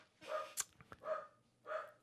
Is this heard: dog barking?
yes